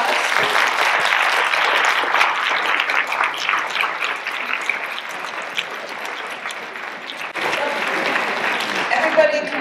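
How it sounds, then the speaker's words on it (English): An audience applauds after a presentation about Edith Rockefeller McCormick, steady clapping throughout with a brief dip near the end before resuming, while a voice speaks over it. "So we want to give a great round of applause."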